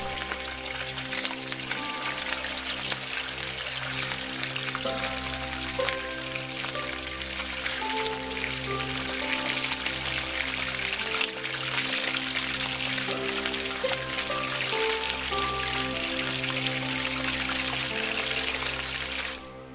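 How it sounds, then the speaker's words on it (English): Three pounds of unbreaded, unseasoned chicken wings fry in 350-degree oil, a dense, steady crackling sizzle like heavy rain that holds evenly throughout without talk. "I have 3 pounds of unbreaded and unseasoned chicken wings that we're going to fry for 9 to 10 minutes in 350 degree oil"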